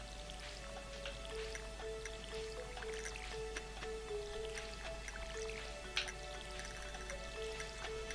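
A watering can sprinkling crops in the farming game Stardew Valley, heard as soft, scattered drips and light splashes over steady background game music with sustained tones.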